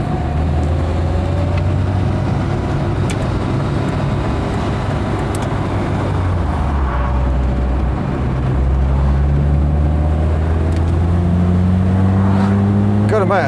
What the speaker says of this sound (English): It's got a nice sounding engine